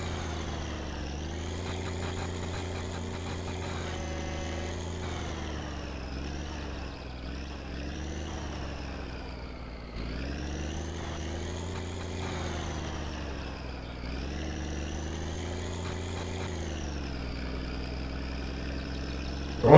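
A truck engine in the My Summer Car video game runs steadily, a deep, throbbing drone that rises and falls gently in revs, continuous and close throughout.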